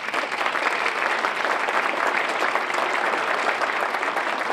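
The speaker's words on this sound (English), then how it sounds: "They deserve our applause too." A large audience at a Boston Latin School celebration applauds educators, sustained dense clapping at an even, fairly loud level from start to finish.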